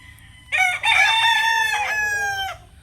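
A pure Paul Spark Grey gamefowl rooster crows once, loud and close, a strained two-second call held with a break near the start, over a quiet farmyard background.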